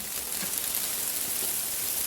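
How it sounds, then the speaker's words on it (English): Steady rain falls on a back garden vegetable plot, a continuous soft, even hiss that runs the whole time at moderate level, with no voices. "Rain's coming down now."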